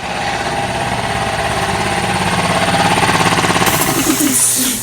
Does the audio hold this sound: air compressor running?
yes